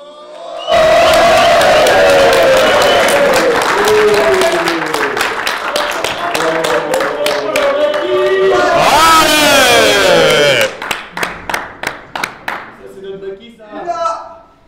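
Chess match audience bursting into loud applause and cheering, a dense wash of clapping with excited shouts and whoops, then thinning into scattered claps, with a commentator's voice talking over it.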